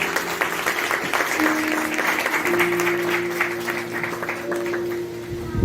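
Church congregation at a Palm Sunday sermon breaking into steady, sustained applause with a few voices mixed in, filling the space at moderate loudness.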